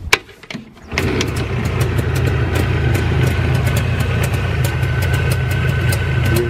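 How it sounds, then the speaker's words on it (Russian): A motorcycle engine cranks briefly, catches and settles into a steady, even idle with a low rumbling exhaust, loud and close, running continuously for several seconds. "Движок шепчет, просто шепчет. Ну и выхлоп просто красивый."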